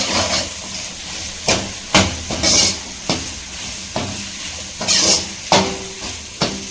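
Onions sauté in a pan with a steady sizzle, while a spatula scrapes and stirs in repeated strokes about once a second, close and fairly loud.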